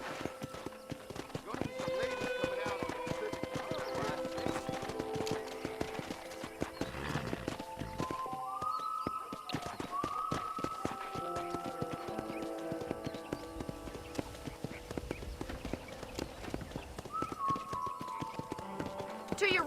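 Horse hooves clip-clopping in the Red Dead Redemption video game on Xbox 360 as a rider heads toward a ranch, a steady rhythmic trot under speech and swelling music.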